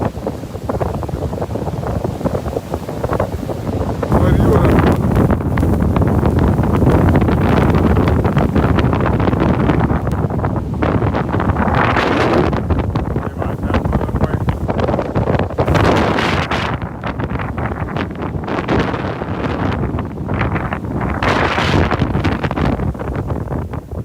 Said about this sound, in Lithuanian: Labai pusto vėjas.